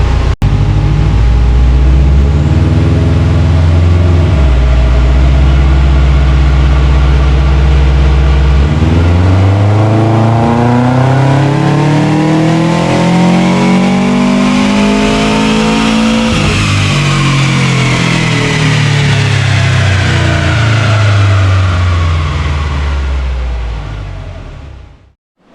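A stage 2 tuned turbocharged Subaru Forester XT with a new turbo-back exhaust makes a loud, sustained wide-open pull, the engine note climbing steadily through the revs, dropping with a shift and rising again before cutting off.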